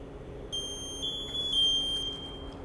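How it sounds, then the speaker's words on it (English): Medium air alarm tone from an MSA G1 SCBA air pack, a shrill steady electronic beeping that starts about half a second in and holds for roughly a second and a half amid quiet background hum. "To check for the medium air tone, which the lights will go from green to yellow."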